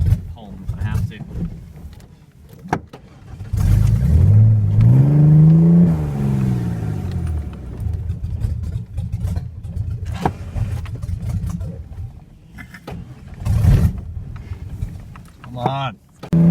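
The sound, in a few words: Ford Ranger engine running rough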